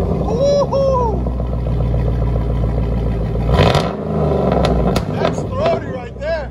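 A Chevy/GMC 6.0L V8 LS with the muffler and resonator cut off and Dynamax race bullets fitted, rumbling loud and throaty with a rev rising and falling midway. People talk and cheer over it.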